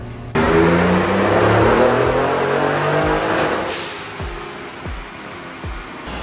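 A 2019 Ford Raptor fitted with a GT750 turbo kit revs hard on a dyno, its loud engine roar climbing under load and then easing off, with repeated low thumps and bursts near the end of the pull.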